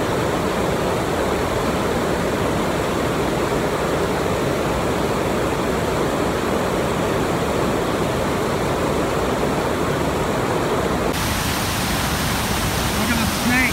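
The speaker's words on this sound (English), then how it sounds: "We're at the very top of the waterfall by the log." Loud, continuous roar of rushing water at the very top of a waterfall in Kansas, close and unbroken, with an abrupt change in tone near the end.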